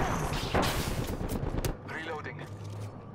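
Gunfire in the Apex Legends video game, a dense burst of shots over its first half before dropping off, with game sounds and speech-like voices underneath.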